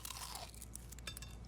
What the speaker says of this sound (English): Boy, that chicken look good. Boy, the crunch.